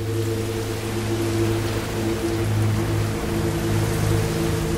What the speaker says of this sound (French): c'est le temps qui est en train de changer complètement avec de la pluie, du vent